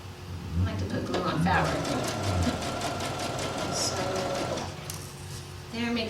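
A sewing machine stitches a seam on a fabric skirt in fast bursts with a steady motor whir, briefly stopping and restarting for a reverse stitch, while someone talks over it.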